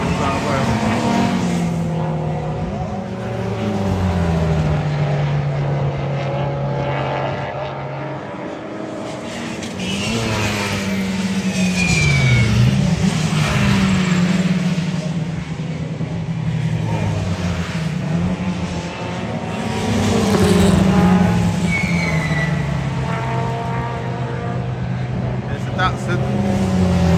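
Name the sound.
race cars lapping at Oulton Park circuit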